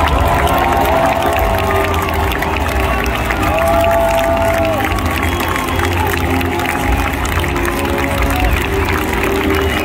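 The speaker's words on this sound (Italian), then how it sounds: "Un grande applauso per Novak Djokovic" Crowd at the Foro Italico centre court in Rome during the ATP 1000 final between Djokovic and Tsitsipas, a dense steady roar of many voices with cheering and scattered clapping that stays loud throughout.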